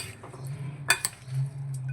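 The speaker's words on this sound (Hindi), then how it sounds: "अब मैं 2 चम्मच की मदद से इसको मिक्स करूँगा।" Two spoons stir through a creamy fruit salad, making soft clinks and a brief sharper clatter of metal against the bowl, under a steady low hum.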